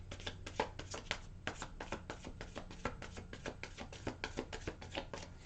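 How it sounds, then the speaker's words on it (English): Tarot cards being shuffled by hand, a rapid run of crisp riffling flicks in an uneven rhythm over about five seconds, close and fairly quiet with no voices. "One more shuffle."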